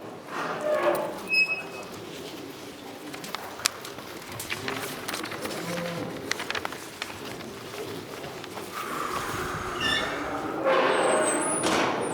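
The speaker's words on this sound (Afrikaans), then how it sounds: "in die ring het ons 4 normale koeie" Cattle low and moo in a show ring at a farmers' day, several calls spread through a busy, reverberant hall with crowd murmur, birds chirping and shuffling hooves underneath.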